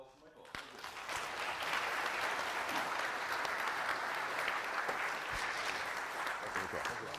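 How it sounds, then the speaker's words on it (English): A conference audience in a crowded room applauds after a talk, with dense, sustained clapping that swells quickly and holds steady. Some voices mix in beneath it. "let's give one round of applause for Michael."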